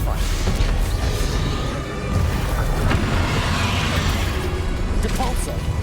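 Spell combat in the video game Hogwarts Legacy, a Stupefy stun spell cast amid a duel, heard as dense booming impacts and whooshes layered over continuous loud battle noise, with a voice talking through it.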